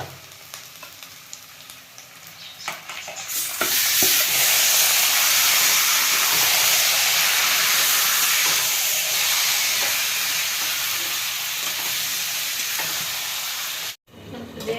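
Duck meat sizzles loudly in a hot pan over fried onions for a Bengali-style duck curry. A quieter stretch with light clatter gives way to a strong, continuous close sizzle that cuts off sharply near the end.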